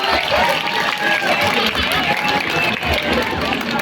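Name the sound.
students applauding a student council candidate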